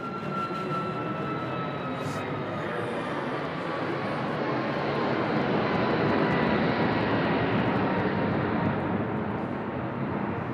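Jet airliner at Nashville International Airport roaring loudly overhead, a steady broadband engine rumble with a whining tone that swells slightly and holds for the whole stretch, close and dominant with no talk.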